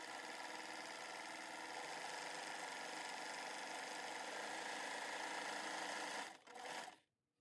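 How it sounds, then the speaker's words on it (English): A sewing machine stitches knit fabric for a toddler dress, a steady close mechanical whir that runs evenly for about six seconds, then slows and stops. "now just put your fabric through and start stitching"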